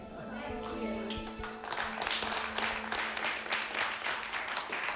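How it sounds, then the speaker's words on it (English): Indoor audience clapping at the end of a historical lecture in a French chateau, a dense, sustained burst of applause swelling after a few seconds, with talk and a lingering tone at the start. "We just heard the clapping"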